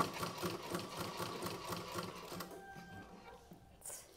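Sewing machine stitching a blouse, a quick rhythmic mechanical whirr and patter heard close at low volume that slows and fades in the second half.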